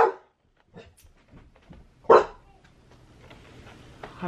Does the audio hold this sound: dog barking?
yes